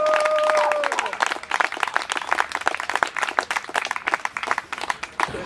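Outdoor rally crowd in Berlin's Hasenheide applauding, a dense spread of individual claps at close and middle distance, with a brief spoken voice trailing off at the start.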